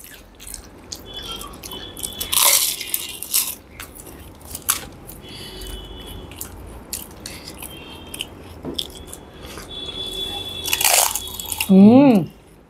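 Crispy panipuri (fuchka) shells crunch loudly between the teeth, in a few sharp broadband bites with chewing in between and a louder burst near the end, while a voice murmurs in the background.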